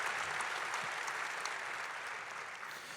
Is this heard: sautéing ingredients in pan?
no